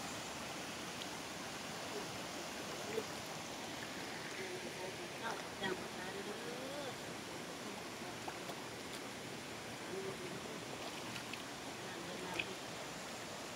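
Water pours down a forest waterfall reached on a hillside walk, a steady, faint rushing wash that holds constant throughout, with a few soft incidental sounds.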